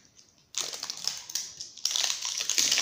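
Plastic wrapping on a counterfeit LOL Surprise toy ball crinkles and crackles as it is torn open, quiet at first, then loud dense rustling bursts that swell again toward the end.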